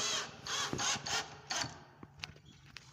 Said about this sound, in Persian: پیچ این طرف رو میبندم،